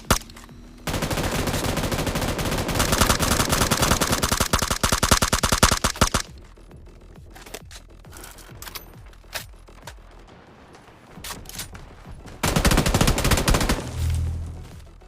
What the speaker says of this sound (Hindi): अब यहां पर मैं और मेरा टीममेट फायरिंग करते हैं